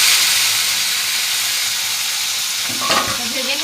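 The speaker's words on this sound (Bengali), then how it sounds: "আগে শুটকি মাছটা ভাজবে, তাই তো? তেলটা তো গরম হয়ে গেছে।" Dried fish frying in hot oil, a steady bright sizzle and hiss throughout, with stirring clatter and a louder bubbling burst near the end.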